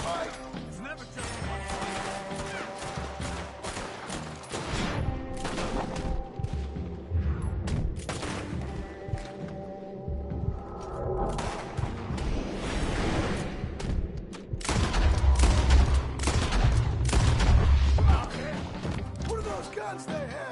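A gunfight in Red Dead Redemption 2 brings repeated bursts of rifle and pistol shots with heavy booms and crashes, dense and rapid through most of the passage, while voices talk over the shooting.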